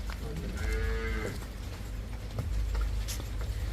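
A Jersey cross cow gives one close, drawn-out moo, followed by farmyard background noise and a few faint knocks.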